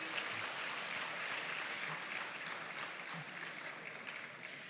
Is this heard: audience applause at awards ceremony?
yes